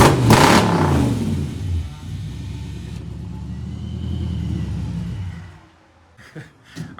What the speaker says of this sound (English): we just went through the gears right there on that